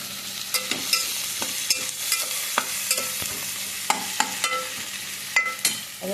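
Masala with tomato frying in a pan for a Mangalore-style egg curry, a soft continuous sizzle punctuated by regular sharp spatula scrapes and taps against the pan, close and without talk.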